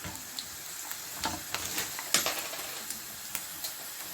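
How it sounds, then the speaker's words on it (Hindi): Vermicelli crackles faintly in about two spoons of oil while being roasted for sheer khurma, soft irregular sizzling pops and light stirring clicks close up, with no talking. "2 चम्मच जो हमने ऑयल लिया था इसमें सवैयाँ भून लेंगे"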